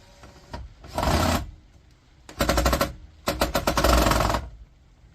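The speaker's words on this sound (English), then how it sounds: "we're going to take this cuisine art apart with a screwdriver" A power screwdriver works on a Cuisinart toasted sandwich maker being scrapped, giving three short bursts of rattling, buzzing whirr separated by brief pauses, close and fairly loud with no speech.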